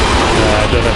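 A charge beam fires in a Windows XP shoot 'em up video game, a loud, dense, continuous burst of blasting game effects lasting about a second.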